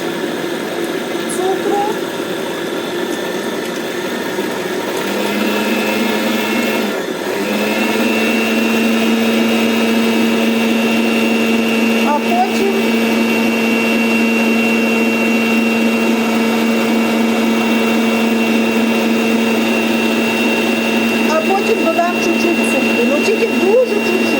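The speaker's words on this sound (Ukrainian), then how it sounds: "Збивати я буду своїм міксером." An electric hand mixer whirs steadily while whisking a sweet batter, a close continuous motor drone that shifts up in speed partway through and runs under a voice.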